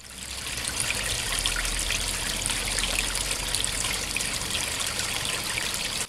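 Water trickling and splashing steadily at a well as water is drawn, a continuous close, even burble that holds level throughout and stops abruptly at the end.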